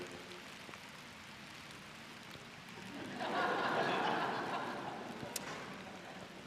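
Rain falls steadily outdoors, a soft wash of drops that swells louder for a few seconds midway before easing back, with faint background sounds.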